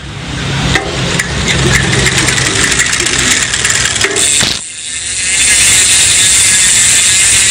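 A Novatek bicycle freehub spins hard, its ratchet pawls buzzing in a loud, dense, continuous clicking close by; the whir cuts off briefly near the middle, then surges back even louder.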